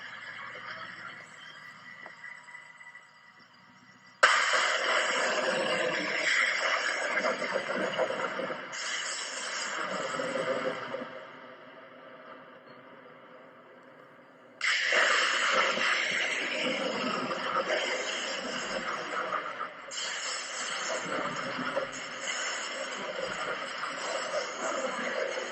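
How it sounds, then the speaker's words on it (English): HIMARS rockets launching in wartime Ukraine, two long roaring rushes of broadband noise, each lasting several seconds with a brief dip between, loud and sustained against a quieter background, with no talking. "This is what HIMARS rockets look like when they go off."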